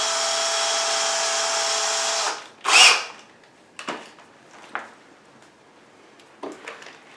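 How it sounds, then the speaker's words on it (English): A power drill runs steadily with a small 1/16 inch bit, making a pilot hole for a cabinet drawer pull. The steady whir lasts a couple of seconds, cuts off, and is followed by a few brief clicks and knocks. "So we're going to make our first hole with a very small 1/16 of an inch drill"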